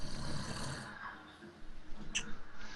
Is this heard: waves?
no